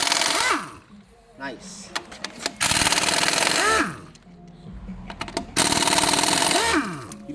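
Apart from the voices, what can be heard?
impact gun removing Hummer H2 tire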